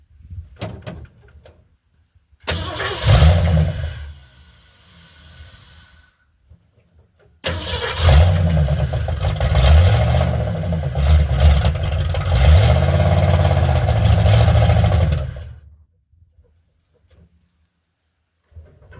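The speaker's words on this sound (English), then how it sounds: "that's the problem with this carburetor. It'll start and run for, you know, what, 2 seconds, real fine, but then it quits." A car in a scrapyard with a faulty carburetor cranks and fires briefly, dies, then starts again and runs roughly for several seconds before cutting out into silence, loud and close.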